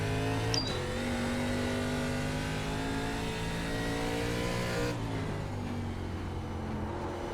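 ARCA Menards Series race car engine in the iRacing simulator, a loud, continuous, close engine drone that shifts pitch as it revs and eases, with a brief gear change near the start and no talk.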